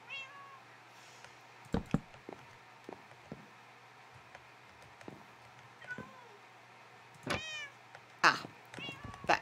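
Minecraft cats meow repeatedly over about ten seconds, several distinct mews spread out with a louder cluster of cries near the end, mixed with small clicks and game noise.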